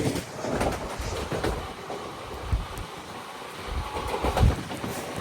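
The Guntur Rayagada Express runs along the track with a continuous heavy rumble and clattering wheel beats, loud and close, with no one speaking.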